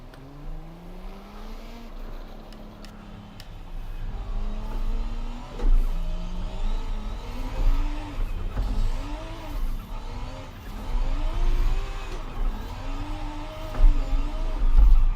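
Toyota Supra in the racing game Forza Horizon 5, its engine revving and rising through repeated gear changes, with tire noise and a steady loud drone throughout; no talking.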